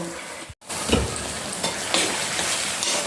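Tomatoes and vegetables roast in a pan for sabzi, a loud, near, steady sizzle with stirring scrapes, cut by a brief silent break early on before the frying resumes.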